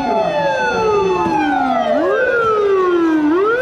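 Toy fire engine siren wailing loudly and continuously, its electronic tone sweeping down and back up in repeated cycles, close and alone with no talk.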